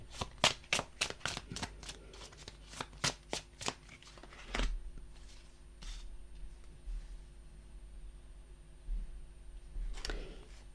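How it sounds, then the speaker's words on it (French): A new deck of miniature Rider-Waite tarot cards is pulled apart and shuffled, giving a quick run of crisp, close card slaps and flicks followed by quieter, sparser shuffling rustles. "comme il est neuf, les cartes sont un petit peu collées, donc je prends le temps de les décoller un peu mieux"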